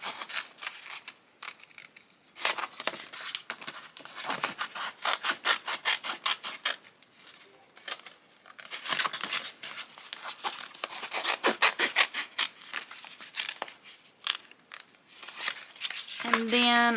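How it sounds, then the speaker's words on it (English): Scissors cut a sheet into its corners while making fairy-wing crafts, giving a long run of close, rhythmic snips and rasping cuts with brief pauses between them. "I'm going to go ahead and just cut this all the way into the corners."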